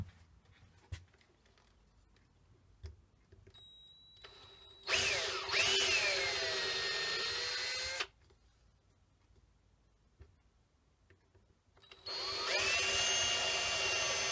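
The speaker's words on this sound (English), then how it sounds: "I'm just going to drill some pilot holes" A power drill boring pilot holes in wood for a lazy Susan project whirs loudly in two close bursts, the first about three seconds long and the second starting near the end, with quiet workshop pauses and small knocks between.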